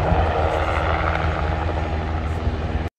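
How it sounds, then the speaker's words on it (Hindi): A helicopter taking off from a helipad near the Twelve Apostles on the Great Ocean Road, Australia: a loud, steady, close rotor and engine roar holds throughout with no talk. "बैकग्राउंड में हेलीकॉप्टर की वॉइस बहुत तेज है, सामने हेलीपैड है और वहाँ से वो टेक ऑफ कर रहा है।"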